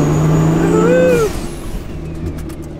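Diesel truck of about 800 horsepower running nitrous, engine roaring loud and close under hard acceleration with a rising whine, then the roar drops off abruptly and a quieter rumble trails with faint hissing.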